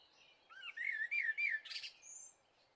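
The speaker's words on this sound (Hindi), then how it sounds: "सारे पंछी वहां से उड़ जाते हैं।" A few small birds chirp and tweet in quick, whistled phrases, close and clear against a quiet background, ending with a brief burst of calls.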